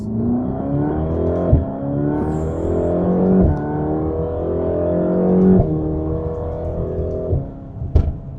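A 720 hp Mercedes-AMG GT Black Series accelerating at half throttle on the street, its loud close engine note rising repeatedly through gear changes with sharp shift cracks between pulls.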